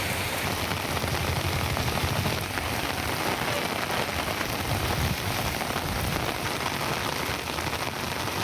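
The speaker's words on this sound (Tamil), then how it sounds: "1 மணி நேரத்திற்கு மேலாக கொட்டிய மழையால் தணிந்தது வெப்பம்" Heavy rain pours steadily in Sivagangai, a dense, continuous hiss of drops drumming on surfaces, loud and unbroken throughout with no voices.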